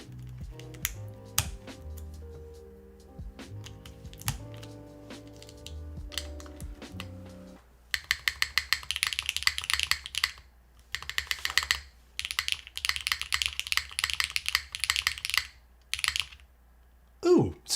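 Loud mechanical keyboard fitted with yogurt switches, typed in quick dense bursts with brief pauses between runs, preceded by quieter desk handling and clicks.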